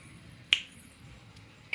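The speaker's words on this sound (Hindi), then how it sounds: "चुटकी ऐसे" Two crisp finger snaps ring out in a quiet room, the first clear and sharp, the second cut short at the very end, with no talking.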